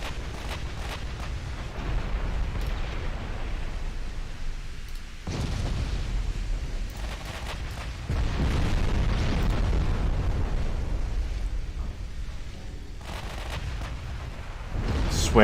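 Enemy shells strike a warship in the naval game Ultimate Admiral Dreadnoughts, with repeated heavy explosive impacts and booms over a rumbling background, several sharp hits spread across the stretch.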